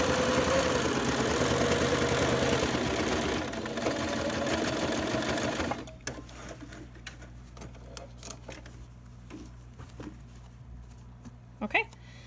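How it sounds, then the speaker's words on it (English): An electric sewing machine runs fast and steadily for about six seconds while back-stitching a fabric face mask, then stops, leaving quiet handling clicks and light rustling. "I like to back stitch across a little just to keep it in place."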